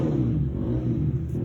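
A four-wheeler ATV engine revs nearby, a loud and steady rumbling growl with slight rises in pitch, heard alone for a moment during work on a Cub Cadet 782 garden tractor.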